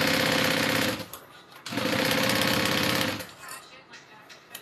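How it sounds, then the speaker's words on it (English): Sewing machine stitching seams on a handmade bag, running in two loud sustained bursts of rapid, even needle hammering with a short pause between, then stopping into quieter room sound. "I sew it on a 3-stitch length, and then I do my top stitching on a 5."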